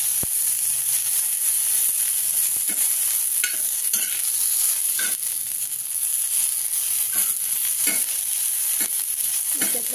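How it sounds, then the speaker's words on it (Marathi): Chillies fry in hot oil for a Banarasi-style curd chilli dish, a steady close sizzle broken by repeated scraping stirs of a spoon in the pan, with no voices. "आता तेलामध्ये टाकून घेऊया आपण। थोडा वेळपर्यंत त्याला परतून घ्यायचं।"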